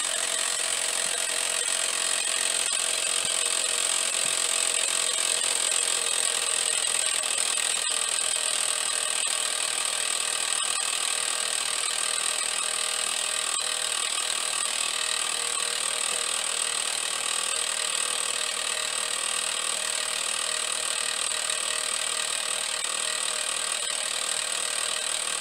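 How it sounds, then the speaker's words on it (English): Small Sherline lathe used for building model engines and boilers runs continuously with a steady high-pitched whine and a faint ticking mechanical texture, close and even throughout, with no voice. "this is my little Sherlin lathe that I build the engines and boilers"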